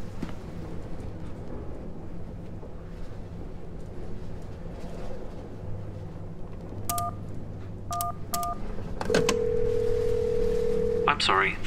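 In the She Could Fly escape game, a phone box's keypad gives off several short dialing tones followed by a sustained steady tone, all set over a low background hum and a bed of ambient game sound.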